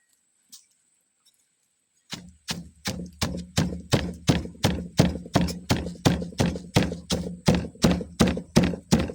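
A stone mortar pounds shrimp chili paste with salt and seasoning powder: steady, close, heavy thuds at about two per second that begin after a brief near-silent opening.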